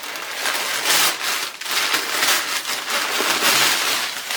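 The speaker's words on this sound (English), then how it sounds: "it's just got loads of paper in it, so I shall just take this out" Paper stuffing rustles and crinkles steadily as it is pulled out of a new handbag, up close with bursts of louder crackling.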